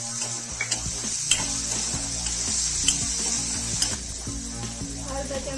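Ground chutney sizzles in a pan with sautéed onions, a steady bright frying hiss up close, broken by scraping stirs and a few clinks of a spoon against the pan.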